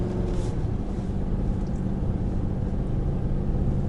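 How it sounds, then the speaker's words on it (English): A steady, deep exhaust rumble from a 2020 Nissan Titan's 5.6-liter V8 drones continuously at an even idle-like level, with no talking. "you can hear that exhaust note. It's actually pretty good. Sounds pretty cool."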